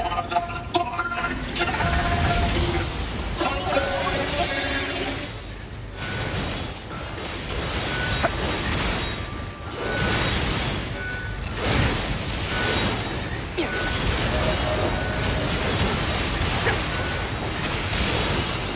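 Repeated explosions in the action game Nier Automata, heavy booms and bursts with crackling debris rolling one after another amid mechanical clatter and combat noise, loud and continuous for the whole stretch.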